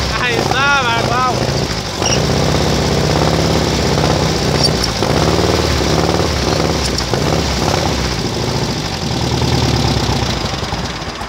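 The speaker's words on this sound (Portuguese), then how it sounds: "vamos dar a partida agora para nós ver se pega de primeira ou não." A mini buggy with a VW Beetle engine cranks and then keeps running with a loud, close, rough air-cooled engine rumble, and someone talks over the noise.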